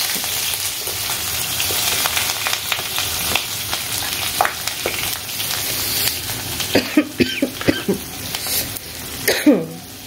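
Garlic and onion frying in oil over tempered dried chili, cardamom and cinnamon: a continuous loud sizzle with scattered clicks of stirring and a few sharp knocks near the end.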